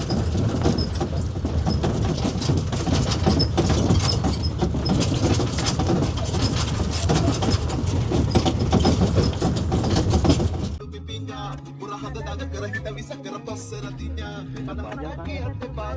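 A train runs along the rails in a steady loud rumble for most of the stretch, then the noise drops abruptly to a quieter, lower rattle toward the end.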